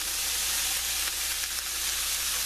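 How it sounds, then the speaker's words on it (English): Vegetables sauté in a hot pan with a steady, close sizzle and crackle that hold at a constant level, with no voices over them. "you saute this until it's just soft."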